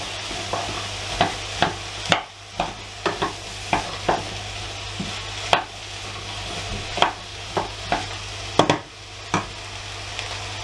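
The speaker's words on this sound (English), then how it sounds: "we're going to add the pork." Pork frying in a hot pan for a paprika dish, a steady soft sizzle under repeated sharp scrapes and clacks of stirring at an irregular pace, close up with no talking.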